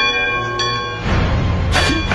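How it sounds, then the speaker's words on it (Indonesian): An attack alarm bell in an anime rings with a sustained metallic tone that fades, then a clattering, noisy rumble takes over, punctuated by sharper metallic strikes. "setelah Beppo tiba di Pulau Zou, berbunyi lonceng yang ternyata lonceng penyerangan."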